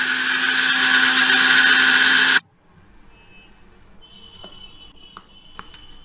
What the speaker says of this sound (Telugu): కొబ్బరి వేసుకుని వాటర్ వేసుకోవాలి, మిక్సీలో చేసుకోవాలి కొబ్బరి పాలు